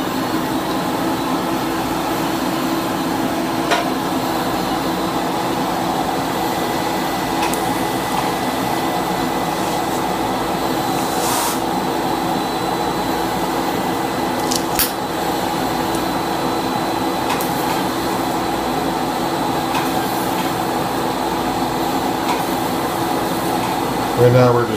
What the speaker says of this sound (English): Put on a vacuum here.